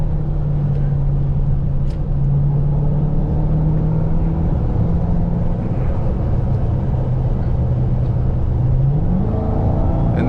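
A 2023 Dodge Charger Hellcat Jailbreak's engine drones loudly from inside the cabin, holding a steady tone before climbing sharply in pitch as it accelerates toward the end.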